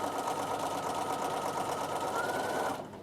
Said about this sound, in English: you're going to sew all the way to the bottom this time